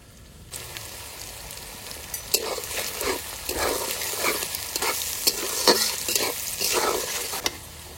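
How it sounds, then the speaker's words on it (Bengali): Chopped onions with black cumin, bay leaves and salt fry in oil in a pan, a dense close sizzle broken by repeated scraping stirs, no talk. "পেঁয়াজটা তো ভালো করে ভেজে নিয়েছি"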